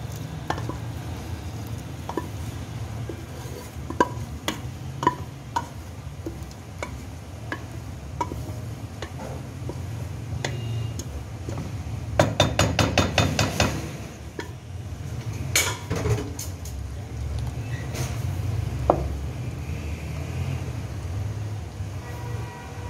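A spoon stirring and mashing mutton haleem with dal in a metal pot, with scattered sharp clinks and scrapes against the sides over a low rumbling background, building into a quick burst of knocks midway.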